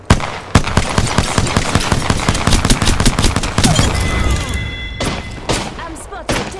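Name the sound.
gunfire in the video game Apex Legends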